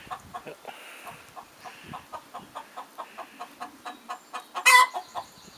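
A chicken clucks in a steady run of short, soft clucks, close by, with one sharper, louder squawk near the end.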